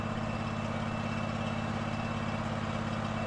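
A portable sawmill's engine runs at a steady, loud mechanical drone with a constant low hum and no pauses, close by, with no talking.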